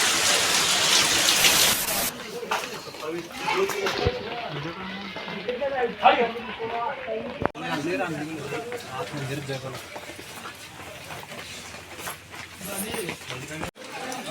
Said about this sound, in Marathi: आता पाऊस चालू झाला आहे मोठाच